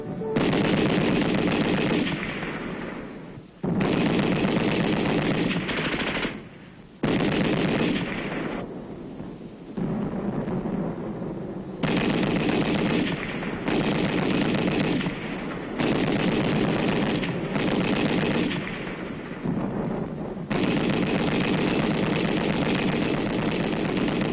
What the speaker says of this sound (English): Allied troops open fire with machine guns on an enemy-held area.